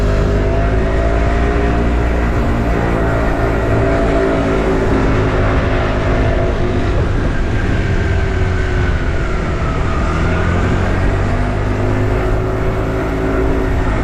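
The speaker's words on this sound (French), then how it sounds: "Non mais là il bloque complètement la circulation là." Car traffic in a town street, where a stopped vehicle is holding up the flow, makes a steady, close engine rumble and droning hum that runs without a break, with no voices over it.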